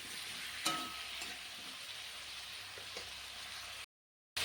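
Four or five slit green chilies fry in a pan of oil for a Bengali pumpkin and prawn dish, with a steady close hiss, a faint clink, and an abrupt cut to silence near the end.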